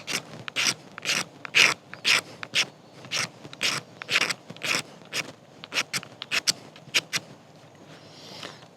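A ferro rod is scraped against fatwood to build a pile of shavings, giving repeated sharp rasping strokes in a quick irregular rhythm, close and crisp, with brief pauses between bursts.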